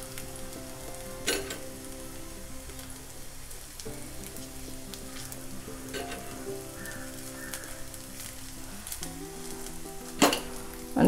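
Sabudana vadas fry in a pan with ghee, giving a steady soft sizzle throughout with a few sharper crackles and pops, close and moderately quiet, with no talking.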